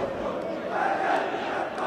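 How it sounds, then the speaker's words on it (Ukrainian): Football stadium crowd roaring and applauding after a converted penalty kick, a dense sustained wash of crowd noise filling the stands at steady loudness with no talk on top. "Неймовірно, просто оплески зараз за це виконання пенальті."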